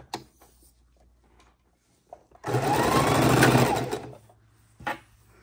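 A sewing machine stitches quilt block pieces together in one burst of about a second and a half of fast, close whirring. Quiet handling sounds and small clicks of fabric come before and after it.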